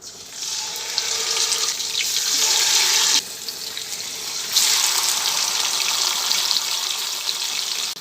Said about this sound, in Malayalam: ഇനി കുറച്ച് വെളിച്ചെണ്ണ ഒഴിച്ചിട്ട് ഈ ഫിഷ് ഇതിലേക്ക് ഇട്ടിട്ട് പൊരിച്ചെടുക്കാം.